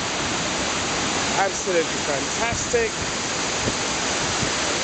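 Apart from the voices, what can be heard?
Kuang Si waterfall, Luang Prabang, Laos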